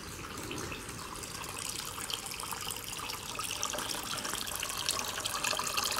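Water pours steadily from a tap or hose onto potted strawberry plants, a continuous close splashing rush that holds even throughout with no voices.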